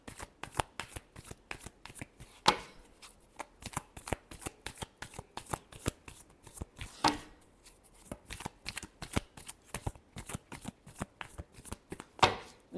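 Tarot cards being shuffled over and over, a dense run of crisp riffling flicks with a few louder slaps, close and continuous with no voices.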